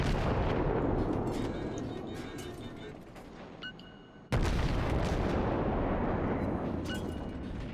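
American destroyer Farragut firing its guns in a naval warfare game, a dense, continuous roar of rapid salvos with booming impacts, briefly cut and then resuming loud and sustained.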